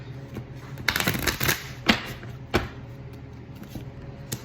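Tarot cards are shuffled in several quick riffling bursts, close and crisp, with quiet pauses between them.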